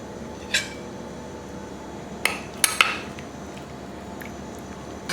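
Metal serving utensils clink and scrape against a large baking tray while an oven-baked vegetable dish is served, with a few sharp, separate clatters spaced over several seconds against a quiet room.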